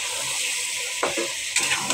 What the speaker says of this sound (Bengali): এখানে আমি মরিচ কষাই দিতেছি চিংড়ি মাছও দিয়ে